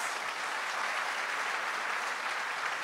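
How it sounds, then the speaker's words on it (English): A crowd applauds steadily, a dense wash of clapping that holds at one level for a few seconds with no talking over it. "Let's just have the biggest round of applause for Team TCS"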